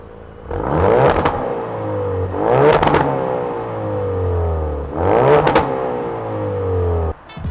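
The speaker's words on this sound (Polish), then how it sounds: "cywilny Ford w tym momencie bez tych popów i bez aktywnej klapy wydechu działa tak po prostu" A Ford Focus RS engine with stock exhaust revs up repeatedly in three strong surges, each climbing and then falling away, loud and close, with an idling drone between them.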